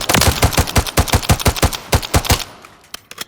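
Rapid semi-automatic bursts from a G36 rifle in Call of Duty Modern Warfare III, about twenty sharp, loud shots in quick even succession that stop abruptly and leave a brief fading tail, with no talking.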